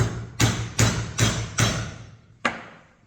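Five sharp mallet hits on a chisel cutting a timber mortise for a mortise and tenon joint, four evenly spaced in quick succession, then a pause and a final blow, each ringing briefly before decaying.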